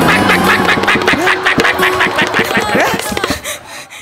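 A comedian's voice imitates a hen on stage in a comedy sketch, giving a quick run of rhythmic, clucking bursts up close that fade into softer sounds at the end.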